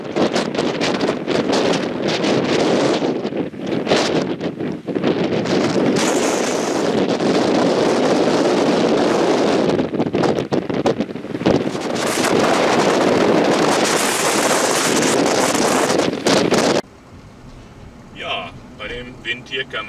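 Strong wind buffets the microphone on a mountain road in northern Kárpathos, between Olymbos and Diafani, a loud continuous roar with gusty surges that drops away abruptly near the end, leaving quieter sparse sounds.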